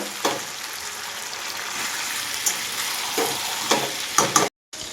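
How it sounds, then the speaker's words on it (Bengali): Chicken curry with fried potatoes sautéing in a pan, a steady loud sizzle with scraping stirs throughout before the sound cuts out briefly near the end. "এবার ভেজে রাখা এই আলুগুলো দিয়ে দেবো দিয়ে আরও পাঁচ থেকে ছ মিনিট কষিয়ে নেব"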